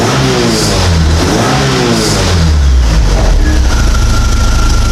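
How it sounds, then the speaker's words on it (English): Model A hot rod coupe engine revving up loud and close, the pitch climbing and falling as the throttle opens and eases back to a steady idle, with no talking. "You see I rev it up, it goes to about 35 pounds"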